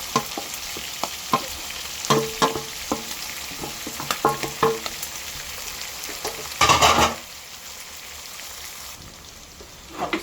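Tom yum seafood fried rice being stir-fried, a spatula scraping and clacking against the pan in quick irregular strokes over a steady sizzle, with a louder burst of frying partway through before it settles back to a quieter hiss.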